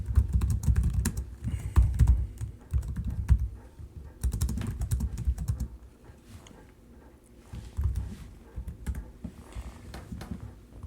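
A computer keyboard is typed on continuously in soft, rapid runs of key clicks over a low rumbling background. The typing eases briefly in the middle and then picks up again, with no voices.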